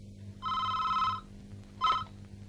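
Two rings of a telephone bell, a long trilling burst followed after a pause by a short one, over a low steady hum, moderately quiet.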